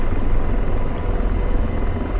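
An AH-64 Apache helicopter sets down for landing in the DCS flight simulator game, its rotor and engine making a loud, steady, rumbling drone with a faint higher whine, heard alone without speech.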